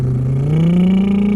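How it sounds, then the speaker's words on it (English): A motorcycle engine revs up with the clutch squeezed in and the throttle rolled on, its pitch climbing steadily over a second or so, loud and close. "you squeeze in the clutch and you roll the gas."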